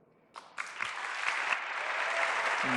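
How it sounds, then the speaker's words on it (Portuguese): A conference audience breaks into applause, starting with a few claps and swelling into steady, sustained clapping from a large crowd. "Mais palmas."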